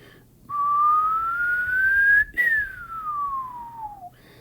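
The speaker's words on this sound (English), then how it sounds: "I just did the sound with my whistle of the frequency getting higher and higher as it approaches you." A whistle blown for a Doppler effect demonstration holds one clear tone that glides steadily upward, breaks off briefly, then slides back down and fades, loud and alone.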